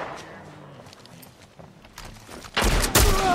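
Gunfire from the video game The Last of Us Part 1, a loud burst of shots breaking out near the end after a quieter stretch of game ambience.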